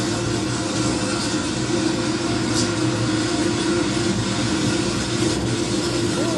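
Roar of an EF4 tornado tearing through a house, a loud, unbroken rushing rumble like a passing freight train, steady and dense throughout with no voices.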